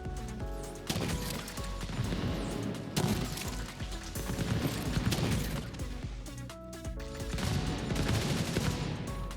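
Gunfire in the video game The Division 2, set at Kenly College: dense, continuous shooting with bursts and blasts running steadily throughout, loud and close with no talk over it.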